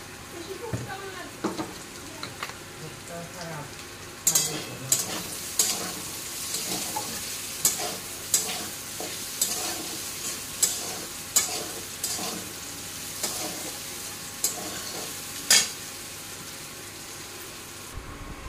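Bitter gourd fries in mustard oil with salt and spice powder under a steady sizzle, while a spatula scrapes the pan in regular sharp strokes roughly every second, close and clear.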